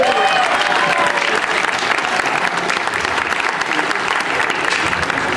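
Dense audience applause fills a carnival enthronement speech at the Martelange carnival, steady and loud throughout with voices faintly mixed into the clapping crowd.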